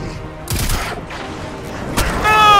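Gunfire from the video game Destiny 2: bursts of rapid shots with sharp cracks, loud and close, a heavy volley midway and another starting near the end with ringing metallic tones.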